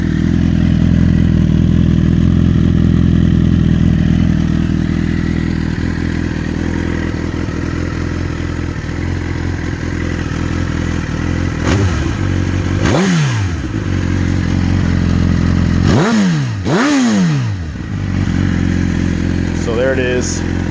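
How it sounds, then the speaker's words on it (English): A 2014 Suzuki GSX-R 1000 with an aftermarket exhaust idles loudly and steadily up close, then blips its throttle in several sharp revs that rise and fall, two of them in quick succession near the end. "Like I said, the exhaust sounds pretty good."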